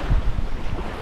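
Waves wash onto the shore of the sea at Anapa, with low rolling surges and steady wind noise buffeting the microphone close up.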